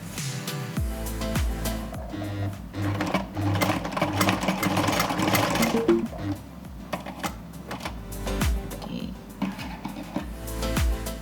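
A domestic sewing machine embroidering a satin-stitch flower stem in brown thread runs in a steady rapid chatter of needle strokes, pausing and restarting at intervals, while someone speaks over it.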